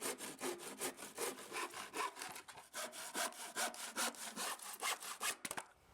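A handsaw cuts a barnwood board for a traditional Finnish fall mouse trap. The rasping back-and-forth strokes are close and steady, with no voices.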